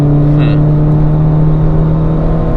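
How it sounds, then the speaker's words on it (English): A car engine revs hard while the driver double-shifts with rev matching on a Nürburgring lap, a loud, close, sustained drone that holds a steady pitch with no talk over it. "Double shifting, not double clutching, but double rev matching."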